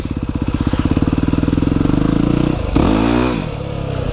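A Yamaha WR250R motorcycle, close and loud, chugs in a fast pulsing rhythm as it is revved for a slow wheelie, then the engine swells in a sharp rev and falls away.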